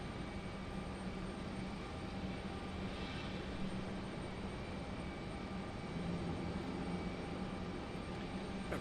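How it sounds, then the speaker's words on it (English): A Breeze Airways jet departs Raleigh Durham airport, heard as a faint, continuous distant engine rumble with a thin steady whine above it and no voices. "Breeze Airways departing."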